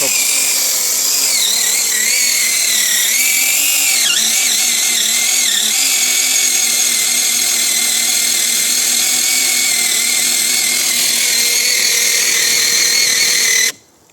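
A battery-powered chainsaw, fresh out of the box, cuts through wood at full bar depth, whining loud and steady for about fourteen seconds before stopping abruptly, with voices talking over it.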